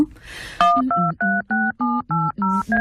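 Telephone keypad tones dial a number, eight or nine clean two-tone beeps in a quick, even sequence, loud and close, preceded by a brief rustle.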